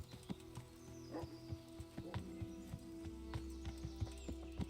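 Horse hooves in Kingdom Come: Deliverance on a woodland hunt, a steady, fairly quiet run of clip-clops with a low rumble and faint background ambience.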